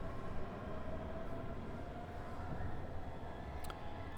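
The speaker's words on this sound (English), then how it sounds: "there's the Ultramunster train, the S2, that's the one that takes us to Dachau" A Munich S-Bahn S2 train pulls into a station platform, a low steady rumble with a faint whining tone and a brief sharp squeal near the end.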